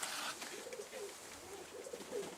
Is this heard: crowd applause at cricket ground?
no